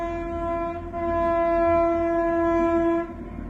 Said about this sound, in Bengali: এই ট্রেনটার হর্ন কি বিশ্রী হর্ন